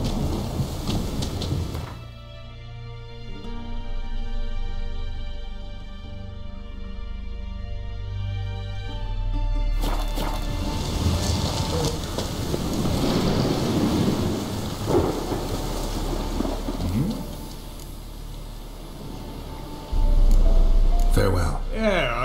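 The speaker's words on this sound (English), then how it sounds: "A storm, damn it." Thunderstorm with steady rain in The Witcher, a low rumbling wash of thunder and rainfall that continues under a man's speech and music, with a louder crack of thunder near the end.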